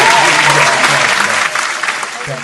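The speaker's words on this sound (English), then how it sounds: "We always clap. Now we got the claps back." An audience claps enthusiastically, dense applause that stays loud and steady before easing slightly toward the end, with voices mixed into the crowd.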